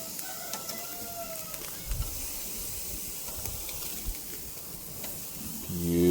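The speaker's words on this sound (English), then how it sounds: "Look at the sizzle." Rib eye steaks sizzle over hot coals, a steady soft hiss and crackle with a few louder pops and a rising burst of noise at the very end.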